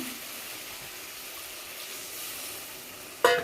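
A little water poured into hot oil with spices and tomato in a pan, a steady hiss of sizzling that ends in a brief sharp clatter, close and with no talk.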